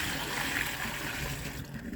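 Water pours steadily out of a washing machine being drained by hand, a continuous close trickling splash with no talk over it.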